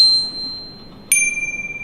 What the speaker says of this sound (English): We've got little bells.